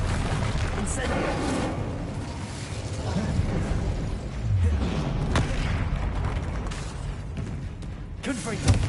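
The Incendio fire spell is cast in combat in Hogwarts Legacy as a dense wash of game noise with booming bursts and crackles. A voice talks over it throughout.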